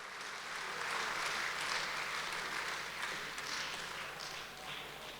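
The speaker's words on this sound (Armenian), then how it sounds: "Ծափահարենք մեր ուսուցիչներին և շնորհակալություն հայտնենք բոլոր նրանց" Audience applauding teachers at an award ceremony, steady dense clapping from a crowd held for several seconds at a fairly soft, slightly distant level with no speech over it.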